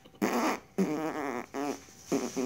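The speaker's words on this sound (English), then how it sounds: "Oh wait, I got fart again." Fart sounds come in three close, fairly loud bursts, each a rasping, buzzy flutter, separated by short pauses, with no talking.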